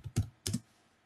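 Keys pressed on a computer keyboard while entering a search term, two quick clustered bursts of clacks close up, then quiet.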